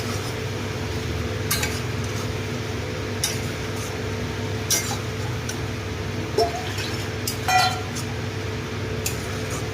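A spoon stirs and sautés chana dal in a pan, with sporadic scraping clinks of metal over a low steady sizzle and hum, with no talking.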